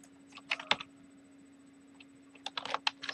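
Someone types on a computer keyboard in a quiet room with a steady low electrical hum. Two short bursts of sharp clicking keystrokes are separated by a pause, and there is no speech.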